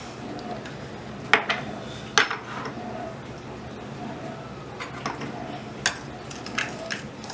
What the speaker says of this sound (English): So I'm going to go ahead and mix everything together.